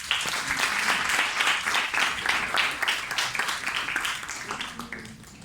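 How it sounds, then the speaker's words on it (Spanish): Audience applause at a talk on disability, a crowd clapping steadily and fairly loudly for several seconds before gradually thinning out. "Un aplauso, por favor."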